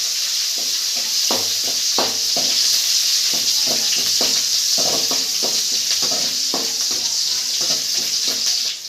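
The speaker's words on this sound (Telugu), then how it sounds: "వేసుకొని బాగా దారేకి వచ్చేంత వరకు వేయించుకోవాలి" Chopped onions fry in a pan for a bitter gourd fry, giving a loud, continuous hissing sizzle, with repeated scraping stir strokes against the pan at close range.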